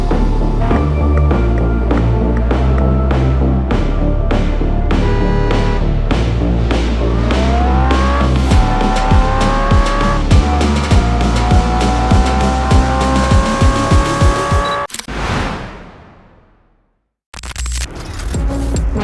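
Cars drifting and racing in a mobile open-world racing game: a loud engine revs and climbs through gears with tires squealing in long skids, then briefly cuts to silence before resuming.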